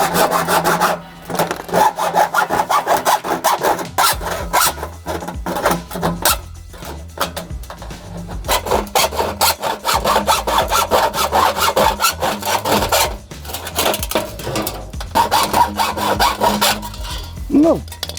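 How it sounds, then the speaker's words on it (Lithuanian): A damaged rain downpipe being cut with a hand saw, loud close rhythmic back-and-forth strokes that keep going steadily with a few short pauses, no talking. "Reikia pjauti čia. Dabar reikia nusipjauti. Na ir pjaunam."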